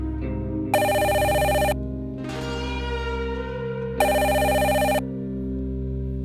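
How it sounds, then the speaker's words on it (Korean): An electronic desk telephone rings twice in a small office, in loud, steady one-second bursts separated by a pause, over a low sustained musical drone. "탁상 위에 전화기가 날카롭게 울렸다."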